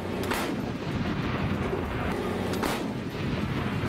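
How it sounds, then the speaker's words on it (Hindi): French Caesar howitzer firing artillery shells in the Ukraine war: two heavy booming blasts, one early and one later, each rolling into rumbling noise over constant roaring wind and handling sounds at close range. "इसके बाद उन्होंने तोप में गोले लोड किए और फिर दुश्मन के ठिकानों पर भीषण हमला बोल दिया।"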